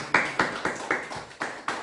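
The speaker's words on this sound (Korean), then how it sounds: "박수로 환영합니다." A church congregation clapping to welcome a newcomer, a series of steady, evenly spaced claps at moderate loudness with no voices over them.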